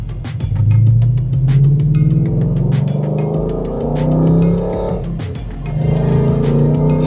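A 2024 Mustang Dark Horse with an AWE SwitchPath exhaust pulls away on its first drive, its loud V8 rumble rising and falling through gear changes and steady cruising.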